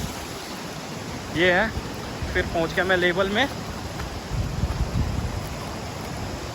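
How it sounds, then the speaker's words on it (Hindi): Water rushing along a small channel feeding a traditional Himalayan gharat water flour mill, a steady close gushing hiss that continues under a man's brief speech. "ये पानी सीधे घराट को ही जाता है"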